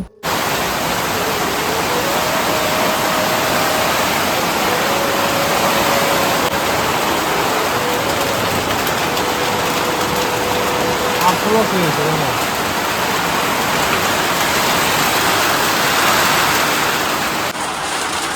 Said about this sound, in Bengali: এতটা বৃষ্টির স্পিড যে জলগুলো ছিটে ছিটে এসে আমাদের দরজার সামনে পড়ছে